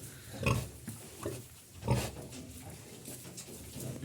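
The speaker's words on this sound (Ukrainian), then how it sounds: "Ось знов ці поросята вийти хочуть." Piglets grunt and squeal in short bursts, two louder ones standing out, with rustling and shuffling around them.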